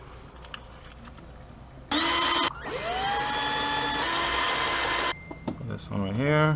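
A power drill whirs loudly in two bursts, a short rev then a longer spin-up that holds steady, with brief talk after it stops, while drilling a hole up to 1/4 inch during a Ford Fiesta ST upgrade.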